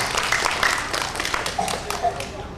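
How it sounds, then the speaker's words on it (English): School audience clapping hands for a pupil, a burst of scattered claps near and moderately loud, with children's voices mixed in beneath. "Give him a big hand clap."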